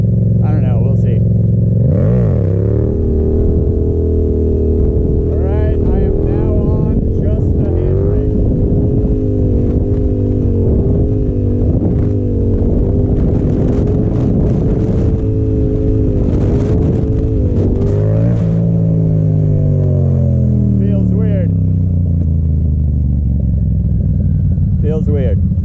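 A Yamaha FZ-07 motorcycle engine runs loud and close during wheelie practice, holding a steady drone, then revving and shifting pitch as the front lifts and drops. The rider talks over the engine noise.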